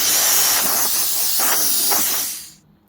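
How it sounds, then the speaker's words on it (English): A Bestarc BTC500DP plasma cutter set to air mode blows a strong, steady hiss of air through its nozzle for a couple of seconds before cutting off sharply. "You also can put it on air. Just actually blow some air through the nozzle."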